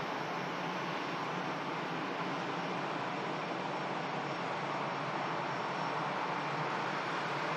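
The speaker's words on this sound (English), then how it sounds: "EasyJet just arriving in from Paris." An EasyJet airliner arriving at Manchester Airport, inbound from Paris, gives a steady broadband jet roar that stays even and moderately loud the whole time, with no voices.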